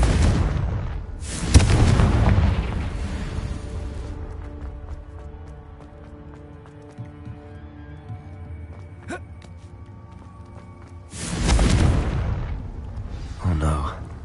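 A Confringo blasting spell explodes in the Hogwarts Legacy video game, heard as two heavy booming blasts, one near the start and one near the end, with a rumbling low tail and quieter game sounds in between.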